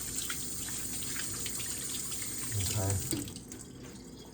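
Tap water runs steadily into a kitchen sink as a man washes his hands while cooking enchiladas, a constant near gush with a brief louder surge, and a voice speaks once over it.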